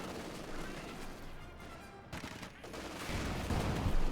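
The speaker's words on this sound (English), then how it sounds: "Shot fired." Gunfire from a World War II battle in the strategy game Company of Heroes 2, with rattling bursts of shots and crashes that grow denser and louder toward the end, some distant and some closer, mixed with battle noise.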